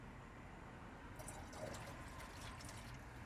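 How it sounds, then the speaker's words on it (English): Rain-X windshield washer fluid poured into the reservoir of a Chevy Colorado 3.6 L V6: a quiet, steady liquid trickle and gurgle, close up, continuous for a few seconds with soft splashy texture. "So we're just gonna pour this in carefully."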